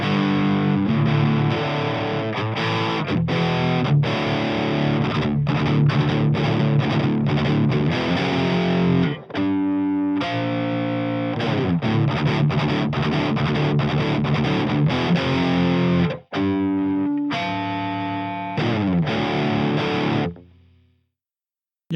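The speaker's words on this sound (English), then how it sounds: "it's just your basic rock sound" A distorted electric guitar played through an Audio Assault X3 amp simulator with a basic rock tone chugs out loud riffs and chords, with brief pauses and a final ringing chord that cuts off.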